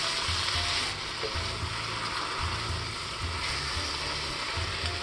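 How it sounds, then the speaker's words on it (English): Sauce for a keto Spanish tortilla sizzles steadily in a pan, with a low rhythmic scrape of a spoon being drawn across the bottom every second or so, close and continuous, no talking. "Give it a stir, make sure nothing is sticking on the bottom there."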